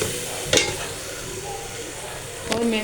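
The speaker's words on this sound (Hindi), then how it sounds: "ये हम डालने लगे। फ्राई कर लेते हैं" Masala spices frying in a pan for white chana rice give a steady, close sizzle with two brief stirring clatters, and a voice speaks faintly over it.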